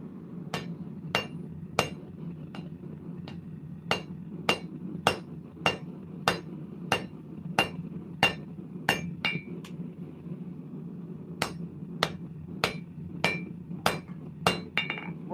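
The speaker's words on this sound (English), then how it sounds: "More technique than just slamming a piece of steel with a hammer." A hammer pounds a piece of hot steel in a steady series of sharp, ringing metallic strikes, close and loud, with a short pause midway, over a low continuous hum.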